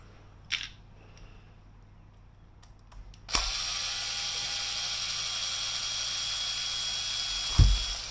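Shocks being unscrewed from a Kyosho Mad Van RC car: a few small clicks, then a steady, close whirring hiss from a small tool that runs for several seconds and ends with a soft knock.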